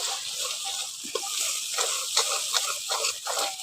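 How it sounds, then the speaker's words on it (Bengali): Ginger-garlic paste and spices fry in a pan for an egg omelette curry, giving a steady sizzle with intermittent scraping and stirring sounds, close and moderately loud, with no voices. "আদা রসুন বাটাটা দিয়ে মশলার সঙ্গে ভালো করে একটু কষে নিচ্ছি"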